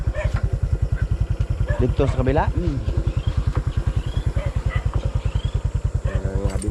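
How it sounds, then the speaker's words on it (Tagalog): A motorcycle runs with a rapid, even thumping engine pulse, close and steady throughout, while people talk briefly over it. "Dalira na itong motor."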